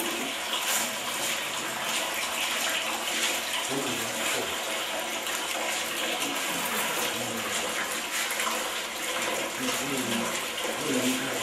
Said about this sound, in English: wash body cavity with running water to remove all traces of blood and kidney tissue